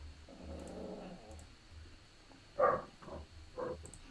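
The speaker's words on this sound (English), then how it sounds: "That's my dog." A pet dog growls at home, low rumbling pulses in the first seconds, followed by a few short sharper yips or whimpers, moderately quiet and near, with no talking over it.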